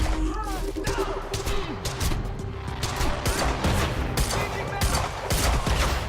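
Heavy pistol fire in the Quantum Break video game, dense with repeated loud gunshot bursts and clatter over a busy game soundtrack, with a voice talking underneath.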